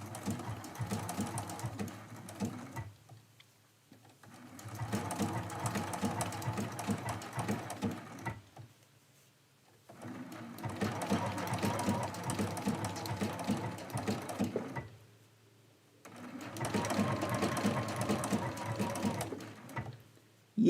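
A sewing machine stitches an appliqué leaf onto a quilt in steady rapid bursts of several seconds each, broken by short pauses, close and clear with no talking.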